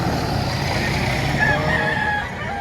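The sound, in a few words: roosters (game fowl) at a chicken market in Batangas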